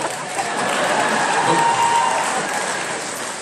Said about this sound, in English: I think everybody should technically be applauding and responding right now.